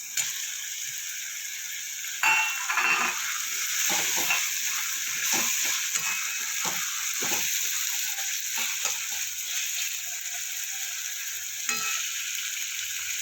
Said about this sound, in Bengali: এবার আমি দেবো কুচনো টমেটো আর চেরা কাঁচা লঙ্কা